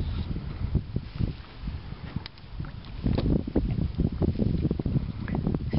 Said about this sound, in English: Sailing for the first time on the Montego.